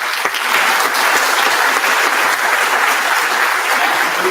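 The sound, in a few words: audience applause at awards ceremony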